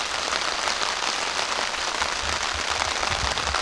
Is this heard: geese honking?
no